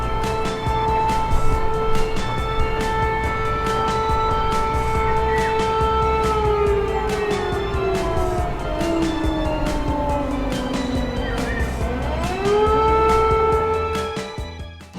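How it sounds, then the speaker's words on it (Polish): A fire engine siren wails steadily over a low engine rumble, its pitch sliding slowly downward, then sweeping back up near the end. "Straż pożarna jedzie tam, gdzie wybuchł pożar, by ratować ludzi gasić ogień."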